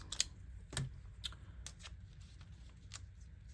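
Scissors make a few soft, quick snips and rustles as they cut paper for a glue book, quiet and close with short pauses between cuts.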